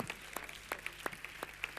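A small audience applauds at an internet outreach show in Italy, a sparse, quiet run of separate claps in an uneven rhythm.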